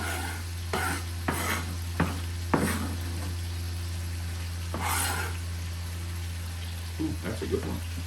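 Chopped onion drops into a pan for a tater tot casserole, followed by a soft sizzle and spoon scrapes over a constant low kitchen hum, with a few sharp knocks of stirring.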